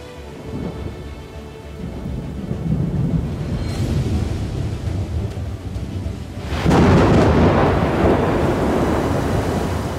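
A thunderstorm with steady heavy rain, deep rumbling thunder rolling through, then a sharp louder crack and surge of rain partway in, close and full, with no voices.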